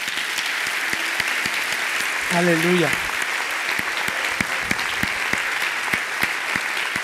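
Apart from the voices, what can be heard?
church congregation applauding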